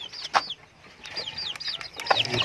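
Native chickens cluck in short, repeated calls at close range, with a few louder clucks standing out over a soft farmyard background.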